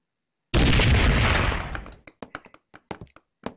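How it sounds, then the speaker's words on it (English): A grenade explodes in the VR shooting game Gun Club VR, one loud sudden blast that rolls off over about a second and a half, followed by a series of sharp, lighter pops and clicks. "There are grenades."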